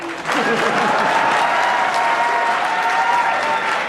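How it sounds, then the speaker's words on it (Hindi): A crowd claps steadily after a Hindi song at a live music performance, loud and continuous, with faint tonal traces of a voice or instrument fading underneath at the start. "ताली बजाइए।"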